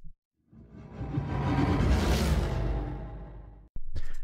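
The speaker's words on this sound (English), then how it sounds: "One sound effect is doing the whoosh." A single long whoosh sound effect swells and fades over about three seconds inside a Cubase music session, loud and alone, followed by a brief clipped sound at the end.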